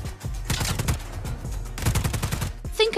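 Enemy soldiers fire rapid bursts of gunfire in the video game Just Cause 4, dense and loud throughout, with machine-gun chatter overlapping and a brief mechanical whine near the end.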